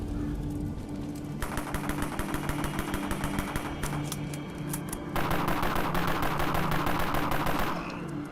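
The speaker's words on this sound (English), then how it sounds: "I actually like the sound of the MP5 a lot better" X-MP5 submachine gun in the Dead Frontier video game firing rapid automatic bursts, loud and close, with a short pause midway before a second sustained volley, no talking over it.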